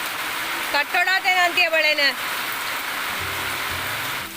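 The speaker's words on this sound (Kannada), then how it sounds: "ಫ್ರೆಂಡ್ಸ್ ನೋಡಿ ಇವತ್ತು ಮಳೆ" Steady stormy village rain hiss runs throughout while a voice speaks briefly near the start, followed by a low hum later.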